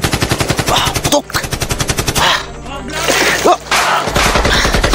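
Rapid bursts of automatic gunfire crackle loudly and continuously during a violent armed clash, with a few heavier single shots and brief pauses between volleys.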